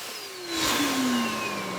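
A vacuum cleaner in a machine workshop starts up and runs, rising into a loud whirring drone with a gliding whine over about two seconds.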